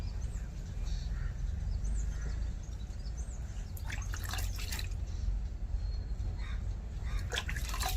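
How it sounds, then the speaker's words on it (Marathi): Hot water splashes and drips while a cow is washed by hand outdoors, with irregular wet spatters over a low steady rumble and faint bird calls in the background. "मी इथे गरम पाण्याने गायला मस्त धुवून घेत आहे"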